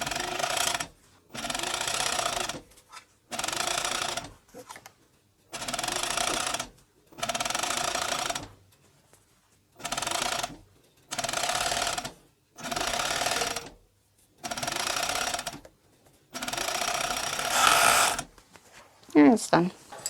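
A coverstitch machine understitches a stretch knit waistband, running in about nine steady, loud bursts of whirring stitching separated by short pauses, heard up close without voices.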